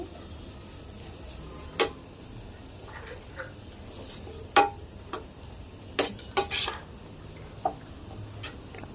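Ivy gourd masala curry with salt being stirred in a pan: sparse, sharp spoon taps and scrapes against the metal at irregular intervals over a low, quiet background hiss.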